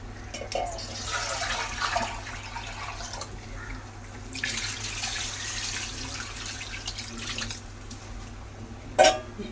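Water poured into a cooking pot for rice ahead of making biryani, a steady splashing pour in two long bursts with a brief gap between, close and fairly loud, ending in a small clink.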